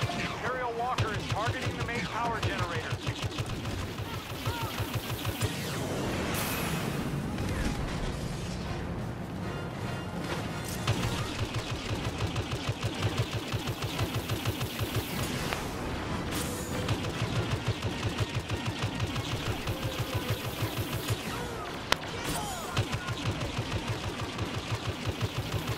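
Star Wars Battlefront snow battle with blaster pistol fire crackling in rapid repeated bursts amid a dense, constant wash of battle noise, explosions and game effects, with voices talking over it.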